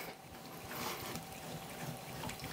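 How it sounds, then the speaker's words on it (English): Tap water run through soaked sausage casings at a kitchen sink before stuffing jalapeno cheddar sausages, a steady close trickle and gurgle of flowing water with no talking. "and put some water through. It just flushes it, but it also makes it easier to put on the horn"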